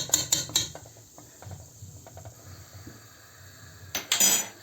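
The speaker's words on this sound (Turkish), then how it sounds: "Şimdi biraz da limon tuzu şöyle karıştıralım." A spoon stirring lemon salt into boiling salted water in a metal pot, several scraping clinks at first, softer taps, then a brief burst of clattering near the end, close and fairly quiet.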